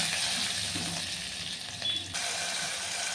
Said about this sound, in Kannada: ಎಣ್ಣೆ ಒಗ್ಗರಣೆ ಆದಮೇಲೆ ಫ್ರೆಂಡ್ಸ್ ಇದಕ್ಕೆ ಚಟ್ಪಟ ಅಂದಮೇಲೆ ಬೆಳ್ಳುಳ್ಳಿ